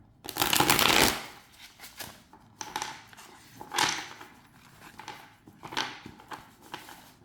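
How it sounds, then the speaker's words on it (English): Tarot de Marseille cards being shuffled by hand, one long riffling burst followed by several shorter, softer bursts of card flicks, close and alone without talk. "shuffle these cards this way"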